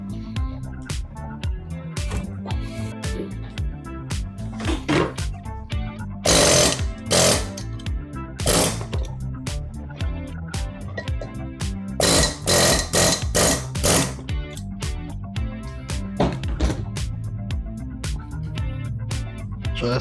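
Tools hammering and rattling in repeated bursts while valve guides are driven out of a heated Subaru STI cylinder head, with loud close impacts and sharp metallic clanks over a steady mechanical background.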